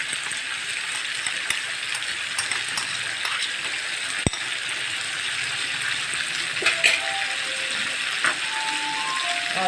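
Ginger and garlic hit hot oil in a karahi with cooking chicken, giving a steady close sizzle and frying crackle, with a sharp clack of a utensil partway through and light stirring scrapes.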